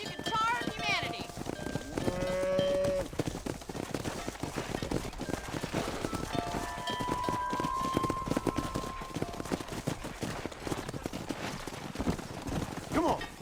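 Cattle mooing during a cattle drive in the Red Dead Redemption video game, several drawn-out lowing calls over steady hoof clip-clop from horses and a bustling herd, with voices talking at times.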